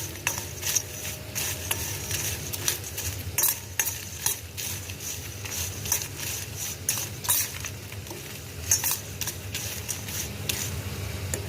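Chilli powder and salt are tossed into fried sweet potato wafers, giving a steady dry rustling and crisp clinking of chips being mixed, with small sharp ticks over a continuous soft hiss.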